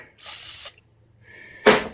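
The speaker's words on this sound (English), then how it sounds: "Right, just spray." Two short hissing bursts of spray from an aerosol can on a Suzuki DR200 motorcycle being stripped, the first about half a second long, the second brief, with quiet pauses between.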